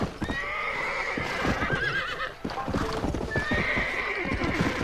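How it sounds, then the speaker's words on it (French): Horse hooves clip-clop steadily at a gallop in the Red Dead Redemption video game, with a loud neigh and whinny rising over the continuous hoofbeats. "Petite session cheval"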